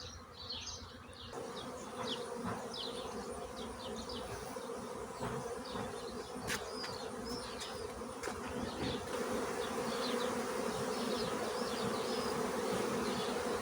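Honeybees hum steadily around a hive after a varroa sublimation treatment, a dense, continuous drone with individual bees passing close, in open air with no talking.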